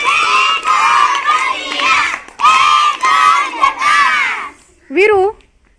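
Children in a group shout and cheer loudly for the winner of a bottle-stacking game, several bursts of excited voices with short pauses between them.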